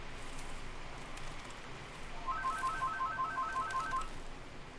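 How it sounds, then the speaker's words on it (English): A telephone rings in a hunting game's forest setting, a rapid repeating electronic trill entering midway and lasting a couple of seconds over quiet ambient wind and rain-like background hiss. "Phone always knows when to ring, don't it?"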